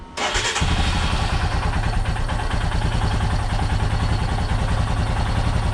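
Royal Enfield Himalayan motorcycle engine starting and settling into a loud, steady, thumping idle close by.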